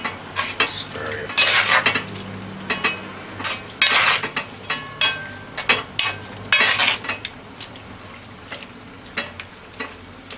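Spoon stirring stewed brown liver in a metal pot, scraping and clinking in irregular bursts, close and fairly loud, with a soft simmering sizzle underneath and no talking.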